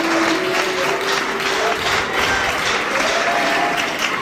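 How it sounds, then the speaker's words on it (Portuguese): A church congregation applauding joyfully for Jesus, a continuous dense wash of clapping hands at steady loudness for the full length, with a faint tone from a voice or instrument running beneath. "dê uma salva de palmas bem alegre"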